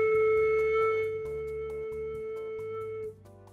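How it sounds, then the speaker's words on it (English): A flute head joint with its end covered, blown to produce a low note: a steady breathy tone held for about three seconds, fairly quiet, before it drops away. "Now we're going to try to get a low note."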